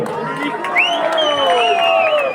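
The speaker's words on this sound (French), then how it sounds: "On l'applaudit bien fort." A lively crowd cheering and whooping, with voices rising and overlapping in a loud, sustained roar; clapping is faint beneath the shouts.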